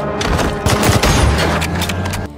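Loud, close gunfire rattles through a film shootout in a dense burst of overlapping shots lasting a couple of seconds, with no speech.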